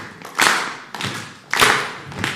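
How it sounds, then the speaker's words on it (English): A group stomps feet and claps in a slow repeating rhythm, with three heavy thuds each followed by a burst of clapping. "I just need you to hit your foot and then clap"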